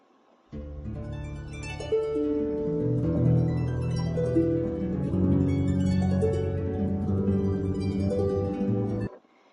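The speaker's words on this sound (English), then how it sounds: "And this instrument is called the harp." Plucked harp strings ring out in flowing, overlapping notes and arpeggios, moderately loud and sustained, with no voices.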